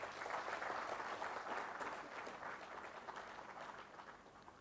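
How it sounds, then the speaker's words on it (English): Delegates at an Indian critical care medicine conference applaud in a large hall, producing a soft, continuous wash of distant clapping that gradually thins out. "A big applause for him,"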